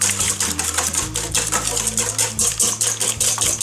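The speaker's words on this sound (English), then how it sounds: "Then we're just going to give it a quick whisk just so everything's well combined." Vanilla extract and stevia whisked in a bowl, with rapid, rhythmic metallic clicking and tapping at close range, steady for a few seconds.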